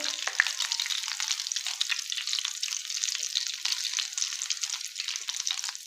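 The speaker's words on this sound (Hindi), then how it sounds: "इसी तरह हम इसको अच्छे से गोल्डन फ्राई कर लेंगे।" Egg and potato cutlets deep frying in hot oil give a steady, close crackling sizzle with dense bubbling that holds evenly throughout, with no voices over it.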